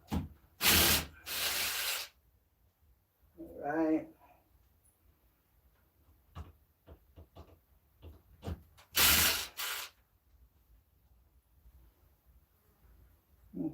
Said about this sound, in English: I have to take my regular drill.